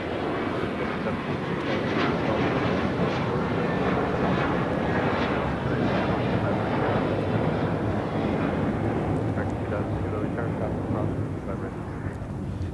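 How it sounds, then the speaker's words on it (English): Jet engines of an American Airlines Airbus A321 roar steadily during takeoff at LAX, a loud, broad wash of engine noise holding for the whole stretch, heard from close by. "This is American Airlines Flight 2135 taking off to Orlando on an A321"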